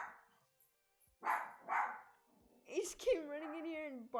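A large dog runs in and barks a few loud, close barks, the last one drawn out into a whining howl, with a person speaking in between.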